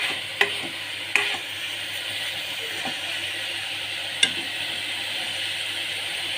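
Broccoli with potatoes and tomatoes frying in a pan, a continuous soft sizzle broken by a few sharp clinks and scrapes of stirring, heard close and alone.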